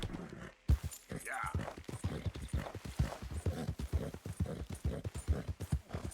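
Horse hooves clip-clop at a steady walking rhythm while riding in Red Dead Redemption 2, close and fairly loud, with someone talking over the hoofbeats throughout.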